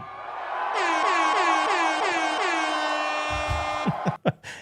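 A loud air horn blasts in a long series of pulsing bursts, sustained for several seconds before cutting off into a few sharp thumps.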